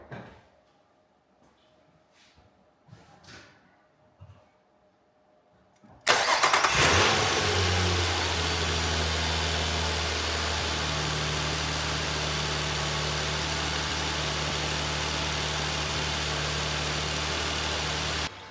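A Nissan Altima 3.5 engine, fresh from spark plug and valve cover work, cranks after a few quiet seconds of faint shuffling. It fires up abruptly and settles into a loud, steady close-up idle.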